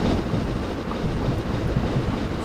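Steam train gathering speed in Train Simulator 2015 on a Somerset and Dorset line, a dense, steady rumble of wheels and rolling stock with rhythmic clatter, close and loud, with no talking.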